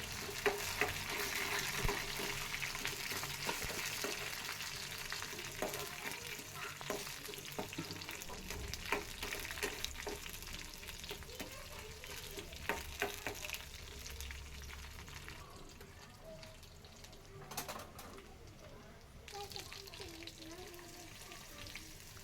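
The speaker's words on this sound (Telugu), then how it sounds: "ఆయిల్ హీట్ అయిన తర్వాత ఆవాలు వేయండి ఆనియన్స్ వేపాకు" Mustard seeds, onions and curry leaves sizzling in hot oil for drumstick rasam, a dense continuous frying hiss with scattered pops and occasional spoon scrapes, gradually easing toward the end.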